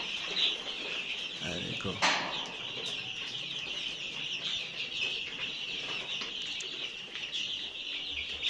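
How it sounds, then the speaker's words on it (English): Constant high-pitched peeping of about 150 chicks close by in a brooder, with a short spoken remark over the dense chirping. "So here right now I have 150 chicks."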